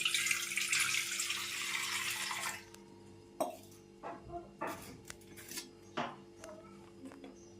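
Water is poured into a vessel to start a date and tamarind chutney. A loud, steady rushing pour lasts about two and a half seconds, then gives way to several scattered clinks of metal utensils and dishes.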